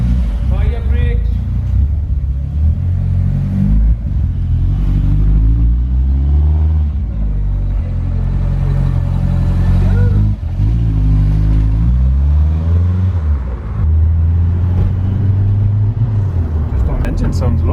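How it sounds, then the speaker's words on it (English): A Ford Escort GT30 van with a ZVH turbo engine idles and revs with a deep, loud rumble that rises and falls close by, while people talk over it throughout. "Engine sounds lush."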